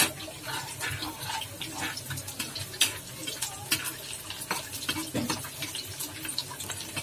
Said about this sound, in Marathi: लसणाला तो कमी होईपर्यंत आपण परतून घेणार आहोत।